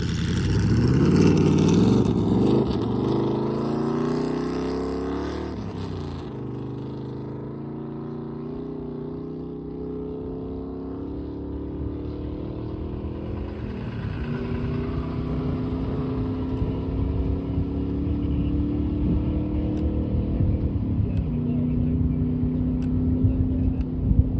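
A small truck driving across the Bonneville salt flats, its engine holding a steady mid-pitched drone with shifting harmonics as it runs, loud and close for most of the stretch, with faint wind in the background.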